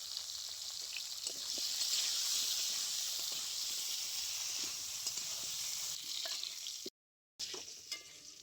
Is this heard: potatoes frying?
yes